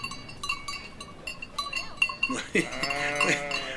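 Sheep bleating amid a jangle of clinking bells, a flock being herded close by in Zermatt, Switzerland, with overlapping calls growing louder toward the end.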